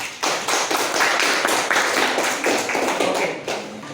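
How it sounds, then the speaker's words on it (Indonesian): A classroom of students clapping together in sustained, dense applause for about four seconds, loud and close, with no talk over it. "Oke, tepuk tangan dulu."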